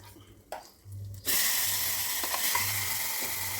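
A hot tempering of mustard seeds, dried red chilies, curry leaves, asafoetida and turmeric hits coconut chutney, a sudden loud steady sizzle that bursts in and holds close, after a short quieter stretch with light clatter.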